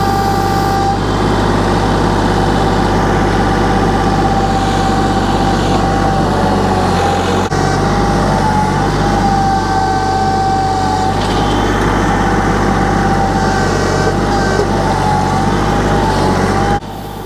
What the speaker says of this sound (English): by repositioning the tractor and ripping more of the root system out by going back and forth